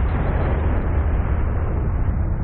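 A dense, roaring blast from the Naruto Shippuden: Ultimate Ninja Storm 3 Full Burst video game, a loud sustained rumble holding steady without talk.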